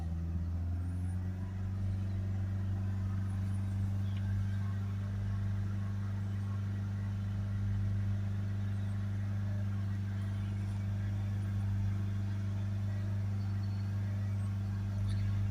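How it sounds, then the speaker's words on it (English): Ford S-Max 2.0 diesel with a blocked particulate filter, engine held steady at about 3000 RPM, giving a constant low droning hum with a strong tonal note, close and unbroken throughout. "Hold it up to 3000 RPM."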